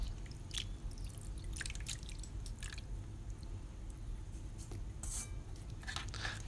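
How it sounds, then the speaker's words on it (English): A vinegar and garlic marinade is poured over milkfish in a pan, giving faint, scattered drips and soft wet splashes over a quiet background, with no talk. "put the fish in the pan and pour the marinade all over it"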